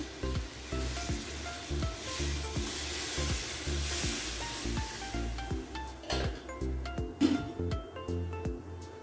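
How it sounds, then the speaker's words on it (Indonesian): Spicy tilapia stew sizzles loudly in a pan just after water is added, with steady frying hiss and repeated scraping strokes of stirring throughout, no voices. "Diaduk. Saya akan kasih air sedikit ya."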